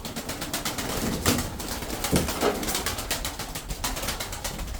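Tumbler pigeons coo in a steady background chorus amid rustling and occasional wing flutters, with no voices.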